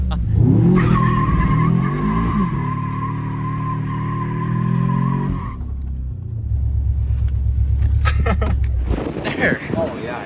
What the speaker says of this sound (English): a bunch of neighbors can see me doing a burnout in my driveway